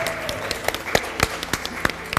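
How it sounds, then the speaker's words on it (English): A brief round of applause for Tim, the tech guy, at a live stamping event in Hulme Hall, Port Sunlight: scattered, uneven claps from a modest audience, fairly close, with a faint murmur beneath. "give Tim a round of applause"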